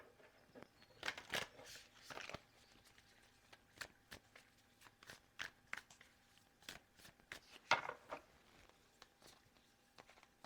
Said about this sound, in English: let's get one card from the Moonology Manifestation deck